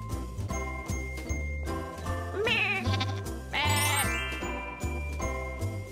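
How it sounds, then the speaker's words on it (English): Cartoon sheep bleat a couple of times in a children's farm counting game, over a bouncy tinkling music loop. "Can you catch three sheep?"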